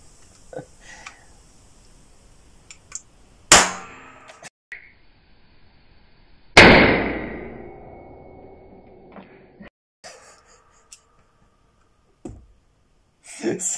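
A Chinese special-forces Type 87 knife-pistol in .22 Short fires two sharp, loud, close cracks several seconds apart, each with a quick ringing decay, and small mechanical clicks and handling noises come before and after.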